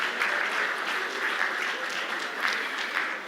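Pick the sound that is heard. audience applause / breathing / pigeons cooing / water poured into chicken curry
audience applause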